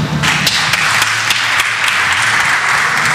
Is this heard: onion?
no